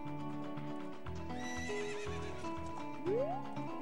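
Epona, the horse in the video game Ocarina of Time, gives a loud whinny over rhythmic galloping hoofbeats, with a rising synthesized tone near the end and no speech.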